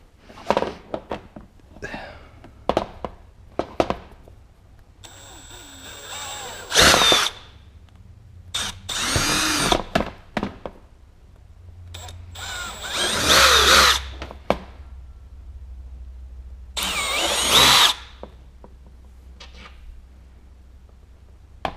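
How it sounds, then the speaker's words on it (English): A power drill bores into a plastic 4.5-gallon fuel tank on an FE 501s Baja bike build, with several short bursts and then longer whining runs separated by quiet pauses, close and loud. "We'll check the right side before we drill it"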